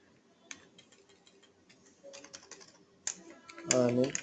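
Python code is being typed on a computer keyboard, with scattered sharp key clicks that build into quicker bursts and end in a louder clatter. Someone talks briefly in the background.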